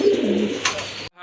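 A pair of solid white pigeons with upright crests gives a short, soft, close coo, quickly cut off.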